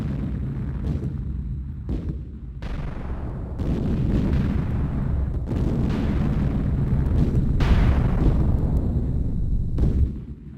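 Cannons bombard the Huguang Viceroy's headquarters in Wuchang, with repeated heavy booms and explosions followed by rumbling decays that overlap into a sustained barrage.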